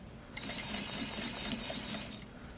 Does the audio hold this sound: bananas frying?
no